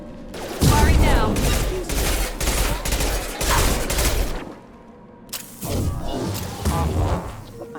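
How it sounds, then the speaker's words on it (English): Gunfire in the video game Mass Effect 2, rapid bursts of loud automatic shots with heavy impacts, pausing briefly before another volley, with voices calling out between shots. "Firing now!"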